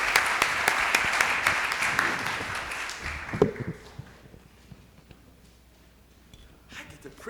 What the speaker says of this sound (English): Come on, let's give her a round of applause.